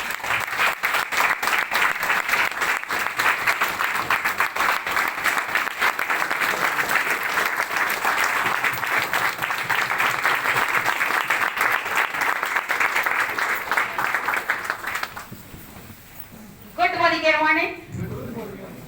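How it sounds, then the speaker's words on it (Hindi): A crowd gives loud, steady applause welcoming a speaker onto the stage at a Modi Care gathering. The clapping fills about fifteen seconds, then drops away into a brief quieter stretch and a short final sound. "मैं बुलाना चाहता हूं जोरदार तालियों से double black diamond Anita ma'am को।"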